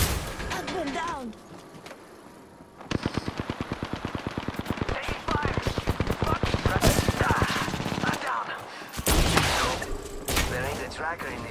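Rapid automatic gunfire from the Devotion weapon in Apex Legends, a loud, fast stream of shots with brief pauses between bursts, while a voice talks over the firing.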